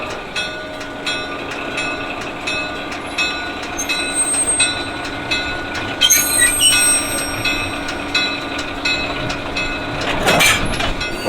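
Train cars near Wisconsin Dells roll as a diesel locomotive couples on, a steady rumble with clacking wheels and squealing metal, a louder clank around the middle and a sharp screech near the end, no voices.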